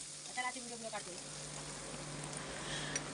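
Sliced onion and green chilli sautéing in a pan for sambar, a faint steady sizzle under someone speaking in Marathi.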